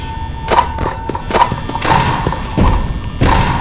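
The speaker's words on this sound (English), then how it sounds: "After Foxy's two bangs, we're gonna lift that door up" Foxy bangs on the office door in Five Nights at Freddy's, a series of loud, heavy thuds in an uneven rhythm over a steady electronic hum, close and forceful, with no talking.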